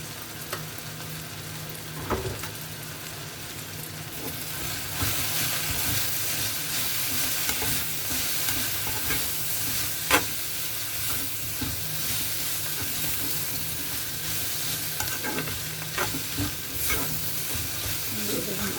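Egg fried rice seasoned with chili and pepper powder sizzles steadily in a pan while a utensil stirs and scrapes through it, with occasional sharper clacks against the pan over the constant frying hiss.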